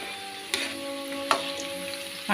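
Indian gooseberries (amla) fry in oil for a pickle, giving a steady, close sizzle with two brief clinks from stirring.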